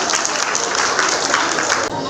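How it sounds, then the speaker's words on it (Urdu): Loud, steady applause from an audience at a school speech event, continuous clapping filling the whole stretch with a slight dip near the end. "زوردار تالیاں ان کے لیے بھی."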